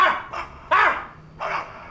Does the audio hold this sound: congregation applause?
no